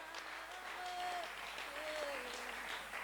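A church congregation applauds in a steady, continuous wash of clapping at a Pentecost seminar, while a faint voice and some sustained musical tones sit underneath.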